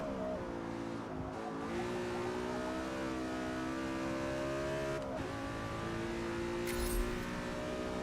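A sedan engine held high in its rev range at around 9,000 RPM, giving a steady, strained, buzzing drone with small shifts in pitch throughout.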